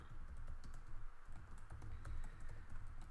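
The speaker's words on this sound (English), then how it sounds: "sorry you just had to listen to my keyboard smashing here" Rapid keyboard typing clatters on a computer, a dense run of quick, light key clicks mashed continuously at close range with no voices.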